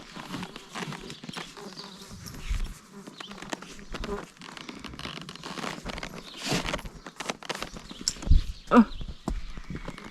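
Horse hooves clip-clop intermittently near a saddled horse being readied for a trail ride, with buzzing insects around, a few brief snorting or whinny-like bursts, and voices talking quietly now and then.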